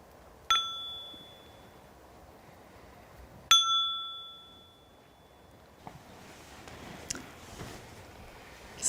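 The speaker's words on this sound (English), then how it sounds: "When we hear the bell, it denotes the end of the meditation" A meditation bell is struck twice, about three seconds apart. Each clear, ringing tone decays slowly over a quiet room with faint background noise.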